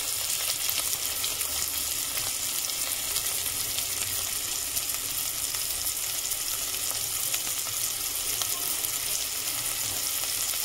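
Tomatoes and red chilli fry in a pan for chana usal, giving a continuous bright sizzle at close range, steady throughout with no talking.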